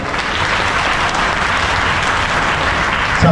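An audience at a speaking event claps loudly and steadily throughout, a dense continuous wash of applause from a crowd, close and sustained with no break.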